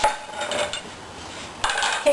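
A ceramic plate clatters lightly as it is lifted and set back down on a kitchen counter, a couple of brief close clinks against a quiet room.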